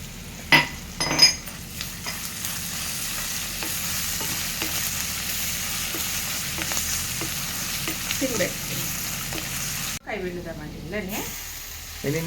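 Ginger-garlic paste frying and sizzling in a pan for puffed rice upma, a steady close hiss with brief stirring clinks and scrapes near the start and a short pause before the sizzle resumes.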